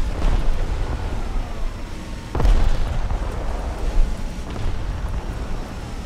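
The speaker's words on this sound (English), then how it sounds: "Yeah, I got actually bombed by an F4E Phantom" Bomb dropped by an F4E Phantom jet in a tank combat game, a heavy boom that bursts out of a rumbling battle background, followed by smaller thuds, close and loud with no talking.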